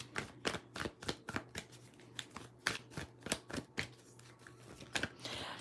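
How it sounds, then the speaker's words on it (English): Radiant Wise tarot cards are shuffled by hand in quick, close, crisp riffling bursts, an irregular patter of snaps repeating throughout with no speech. "let me just pull a couple cards here. I'm going to grab the Radiant Wise Tarot"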